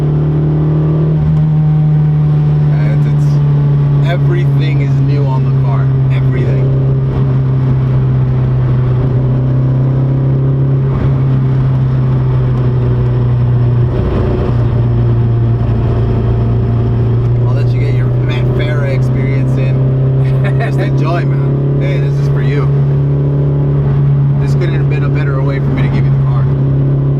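An Infiniti G20 with an SR20VE engine cruises on a damp road, giving a steady low engine drone with light tire and road noise heard from inside the cabin.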